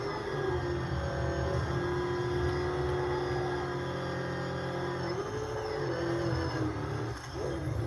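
Batmobile engine in the Batman Arkham video game, a steady sustained roar with a shifting revving tone, loud and continuous without talk.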